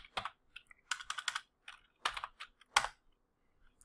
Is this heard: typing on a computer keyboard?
yes